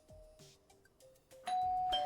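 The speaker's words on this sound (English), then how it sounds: "My fingers over the doorbell." A doorbell rings in the visual novel game Belle Automata, a soft chime tone among quiet small clicks and button sounds, then a brighter, louder ding near the end.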